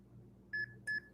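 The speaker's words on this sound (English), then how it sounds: "So when you hear the beep, you get it" Two short, bright electronic beeps from a phone app as it successfully scans a personal care product, clear over faint room noise.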